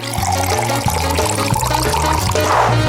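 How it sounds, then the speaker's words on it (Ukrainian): Fanta soda pours continuously into a glass fish bowl, a loud, close gurgling and splashing stream with fizzy bubbling throughout. "Далі беремо фанту кладемо всередину."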